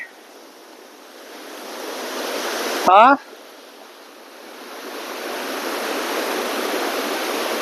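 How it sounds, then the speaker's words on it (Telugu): Waterfall on a mountain near Kathmandu, Nepal, giving a steady broadband rush of falling water that swells slightly toward the end, broken by one brief loud rustling burst partway through. "ఇది వాటర్ ఫాల్ అండి"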